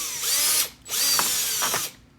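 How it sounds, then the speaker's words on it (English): A power drill whines loudly in two bursts, pausing briefly between them, its motor pitch shifting as it bites into material while drilling holes to mount a Jeep Wrangler Rubicon grille insert. "Grab your drill, hold them down, and we're going to drill the first one in right here."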